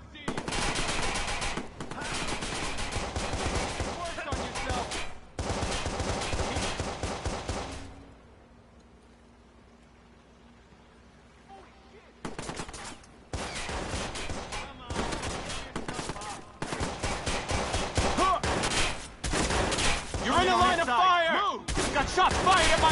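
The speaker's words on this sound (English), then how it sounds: "Shots fired at my location!" Gunfire in the Watch Dogs video game: long, loud bursts of rapid automatic shots rattle in several volleys, broken by a short quiet lull before heavy firing resumes.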